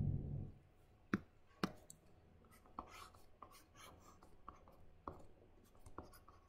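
A circuit diagram being drawn on a board during an electronics lecture, heard as a series of sharp taps and short scratchy strokes of a pen or chalk, faint and close, with no talking.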